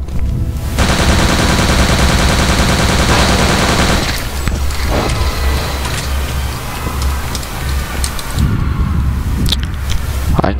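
Thompson submachine gun fire in Return to Castle Wolfenstein: loud, continuous rapid bursts hammering for several seconds, then scattered shots and clatter as the fight goes on, with no voices.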